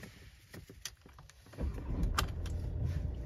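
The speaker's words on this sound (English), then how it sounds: "So if we attempt to start the vehicle now" A Volkswagen Transporter van engine starts after a few light clicks and rattles, then settles into a steady, loud, broad rumble heard close up.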